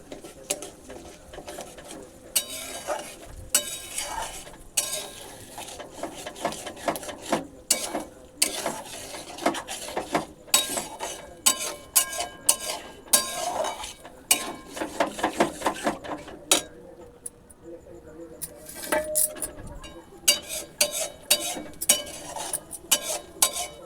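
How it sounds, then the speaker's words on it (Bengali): A utensil stirs egg bhujia slowly in a pan with repeated scraping and clinking strokes in an irregular rhythm, close and fairly loud, with no talking. "আস্তে আস্তে করে এভাবে করে নাড়তে হবে।"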